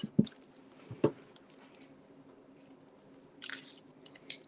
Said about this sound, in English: And we'll use our scissors.